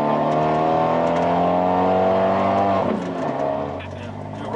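Modified Fiat 124 Spider Abarth sports car engine running loud and close, a sustained droning rev that drops in pitch partway through as it eases off, with people talking over it.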